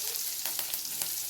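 Whole spices, clove, cinnamon, bay leaf, mustard seeds, cumin and curry leaves frying in hot oil and butter, a brief close crackling sizzle with a few sharp pops.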